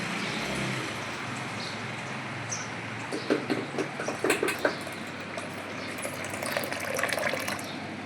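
Water runs into a pot as a soft continuous rush, joined midway by quieter splashing, gurgling bursts as the vessel fills.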